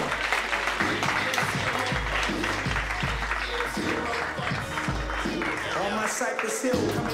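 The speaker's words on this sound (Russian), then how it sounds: "Ваши аплодисменты!" Audience applause for a boxer in the ring at a livestreamed event, a continuous crowd clapping layered over loud pulsing music with a steady bass beat throughout.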